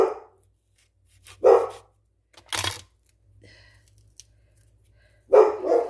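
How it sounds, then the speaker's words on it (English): Three sharp dog barks ring out, spaced several seconds apart, with a faint click and quiet room tone between them. "She always barks at our mail lady, Sonia."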